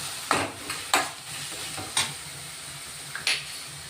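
Ginger, garlic and green chili paste dropped into a hot oiled pan while making a homestyle prawn fry, giving a few sharp sizzling bursts over a steady low frying hiss, close and moderately loud.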